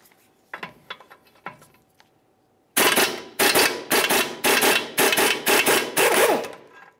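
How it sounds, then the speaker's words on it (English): A 24 mm lower ball joint mounting nut on a Dodge Dakota is loosened, first with a few scattered clicks of the wrench, then with loud repeated rattling bursts of an impact gun. "removing the 24 millimeter lower ball joint mounting nut"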